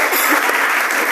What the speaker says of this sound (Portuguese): Salvas de palmas, por favor.